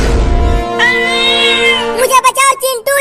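A voice imitates a cat meowing in a long, drawn-out whine, then breaks into a few shorter, choppy cries, loud and close.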